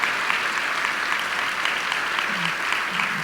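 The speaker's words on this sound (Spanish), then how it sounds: "Vamos a aplaudirlos a ellos." An assembly at a Catholic school closing a synodal gathering with Mass applauds the hosting Colegio de San Agustín, a loud, dense burst of crowd clapping that carries steadily throughout.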